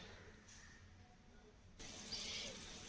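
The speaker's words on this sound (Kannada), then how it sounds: "ಅಕ್ಕಿನ ತೊಳೆದು ತಗೊಬರ್ತೀನಿ" Rice being washed in water while cooking tomato bath, a faint trickle of running water that turns into a louder, steady splashing flow partway through.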